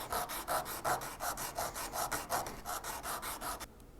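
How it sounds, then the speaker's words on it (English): Small craft part being sanded by hand for a dragon model: quick, even back-and-forth rasping strokes, about three or four per second, close and fairly soft, ending abruptly in near silence. "Then you just sand it down."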